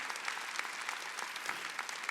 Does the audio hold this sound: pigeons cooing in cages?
no